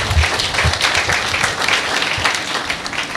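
Church service congregation clapping together, a dense, steady wash of hand claps from a crowd filling the room at moderate loudness.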